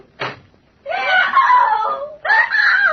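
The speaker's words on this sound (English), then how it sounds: "What was that scream I just heard?" Woman's scream in an old radio drama, a brief sharp cry followed by two long, loud, wavering shrieks, close and dramatic.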